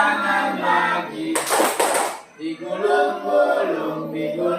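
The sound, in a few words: hands clapping again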